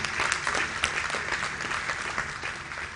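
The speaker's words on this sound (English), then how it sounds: "Please give him a round of applause." Audience applause for Professor Pat Utomi at an annual lecture and induction ceremony, a steady, dense wash of many hands clapping from start to finish, with no pauses.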